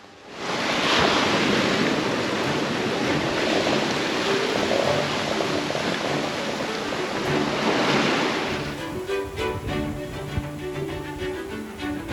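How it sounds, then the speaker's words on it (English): A sailboat running downwind at about 7 knots in roughly 20 knots of winter wind on the Mediterranean near Gibraltar: a steady, loud roar of wind and rushing sea that eases slightly near the end, with no voices. "there's about 20 knots of wind out here, and we're scooting on downwind about 7 knots"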